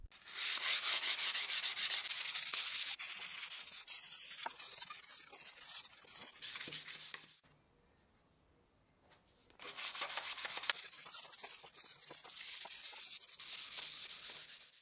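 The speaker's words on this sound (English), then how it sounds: "I'll sand manually, first with 220 grit sandpaper and then with" Hand sanding of a machined wood piece with 220 and then 320 grit sandpaper: steady, close rasping strokes in two long bursts separated by a quiet pause, with no talk.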